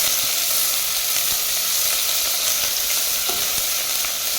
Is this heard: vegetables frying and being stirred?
yes